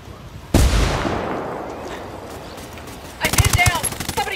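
In the Ghost War video game, a loud gunshot booms and then decays, followed by a rapid burst of automatic gunfire near the end. The shots are close and sharp, with no talking over them.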